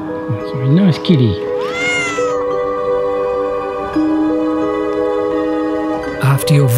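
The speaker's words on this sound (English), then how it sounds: "It's a cat. That's a really nice kitty." A cat meows several times, with rising, wavering cries over a steady humming background noise.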